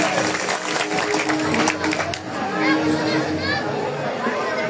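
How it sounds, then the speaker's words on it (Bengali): An audience at a comedy stage show applauds loudly, a dense burst of clapping mixed with crowd chatter that tapers off gradually. "জোরে একটা করতালি সবাই।"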